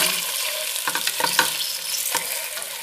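Chicken cooked in Sprite sizzling steadily in a pan, then turned over to fry the other side, with a cluster of scraping and clattering utensil sounds over the loud, continuous frying hiss.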